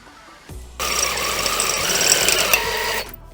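A power drill bores a hole in a J's Racing intake for a DC5, spinning up with a brief whine, then grinding loudly and steadily for about two seconds close by before stopping.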